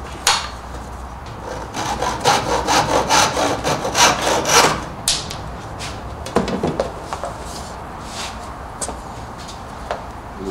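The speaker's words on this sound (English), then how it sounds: "just need to cut a couple of little pieces of the dowel. Take a finer tooth saw." A fine-tooth hand saw cuts through a small wooden dowel in a quick run of close, rasping back-and-forth strokes, then a few scattered scrapes and knocks as the cut finishes.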